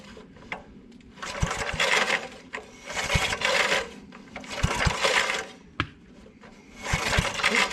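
A small engine pull-started again and again by hand: four rhythmic bursts of cord rasp and sputtering, each followed by a pause with faint clicks, close and moderately loud, without talking.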